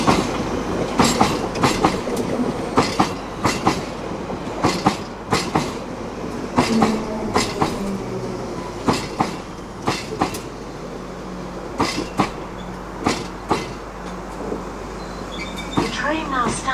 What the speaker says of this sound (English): Standing at platform 1 is the London Underground service to Elephant and Castle